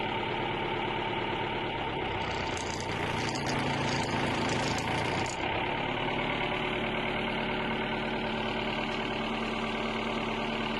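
A Mercedes 508 truck engine idles steadily, a continuous close, even rumble with a slight knocking texture that runs the whole way through with no talk.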